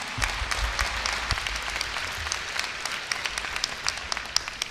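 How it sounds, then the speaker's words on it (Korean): Applause from an audience welcoming a speaker to the stage at the Korea University 2018 freshman entrance ceremony, a dense, steady crowd clapping throughout with scattered sharper claps. "김정호 대표님을 큰 박수로 맞이해 주시기 바랍니다."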